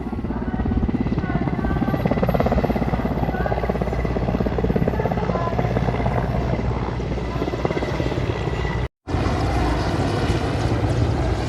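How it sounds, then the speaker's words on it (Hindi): A helicopter lands at Ramdevra during a political rally visit, its loud, continuous rotor thudding and engine roar dominating throughout, close by, with a brief cut near the end. "हेलीकॉप्टर लैंड कर रहा है।"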